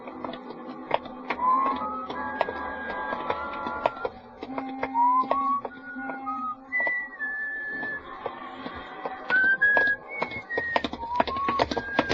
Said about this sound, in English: Just sort of whistling to myself and walking along the street.